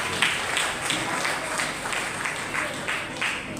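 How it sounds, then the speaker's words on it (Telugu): An audience claps together in a dense, sustained round of applause at a gathering, steady and fairly loud for a few seconds. "చప్పట్లు పడదాం ఒక్కసారి."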